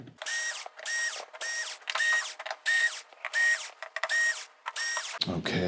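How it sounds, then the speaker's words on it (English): Screws being removed from the main board plate of a Sony XBR-65A8F television with a power screwdriver: about nine short, even whirring bursts in a steady rhythm, close and clear, ending with a brief clatter. "So let's get these screws out"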